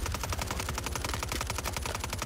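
Rapid automatic gunfire from the video game Vondel, a dense stream of evenly spaced shots rattling loud and close with no pauses, alone without talk.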